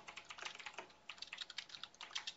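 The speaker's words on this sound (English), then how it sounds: "Slamming on a keyboard." Rapid typing on a computer keyboard, a dense run of light clicking keystrokes with a brief pause near the middle, close and fairly quiet, with no voices.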